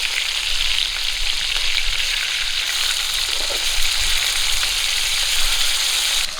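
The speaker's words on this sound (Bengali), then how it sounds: "এইদিকে মাছগুলো ভাজা হচ্ছে" Pieces of rohu fish fry in hot oil over an open fire, a loud, continuous sizzle and crackle close by that holds steady throughout with no talking.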